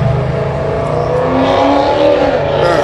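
A Lexus engine roars loudly and continuously close by, a throaty rev that holds and rises slightly over three seconds with no talk.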